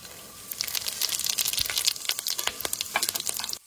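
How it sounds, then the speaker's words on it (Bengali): Whole spices and cumin are dropped into hot oil over an outdoor village cooking fire and burst into a loud, close, crackling sizzle that keeps popping unevenly for a few seconds. "এবার দেবো গোটা মশলা আর সামান্য জিরে,"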